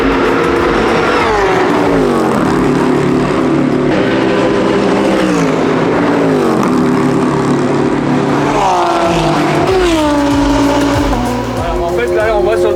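Race car lapping at the 24 Hours of Barcelona endurance race, engine loud and close with repeated rising and falling pitch through gear changes, people talking over it.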